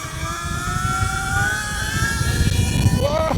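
An electric Surron dirt bike being ridden, a steady rising whine with motor and drivetrain noise plus rough ground rumble, continuous and fairly close, with wind buffeting.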